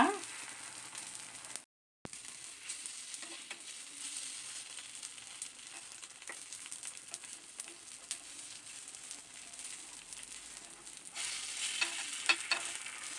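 Egg paniyaram batter with vegetables fries in a paniyaram pan with a steady, soft sizzle and light crackle that continues throughout, with one short break and a slightly louder end.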